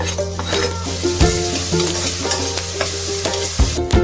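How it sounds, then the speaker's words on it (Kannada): Tomatoes frying in a pan with onion, asafoetida and turmeric: a steady close sizzle with repeated scraping stir strokes and a couple of sharper clanks of the spoon against the pan, no voices. "ಈಗ ಇದಕ್ಕೆ ಟೊಮೆಟೊ ಹಾಕ್ತಾ ಇದ್ದೀನಿ."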